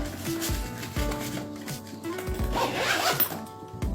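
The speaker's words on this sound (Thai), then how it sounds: "มีซิปข้างบนข้างล่างนะครับ" A zipper on a Marienthal saxophone case is pulled open in several quick, close rasping strokes, loud and clear with no talking.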